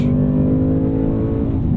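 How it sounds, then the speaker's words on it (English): A Ford Mustang Mach 1 with its Coyote V8 exhaust roars loud and close from inside the car, a dense, steady low engine growl held under acceleration. "Okay, so exhaust, just mega."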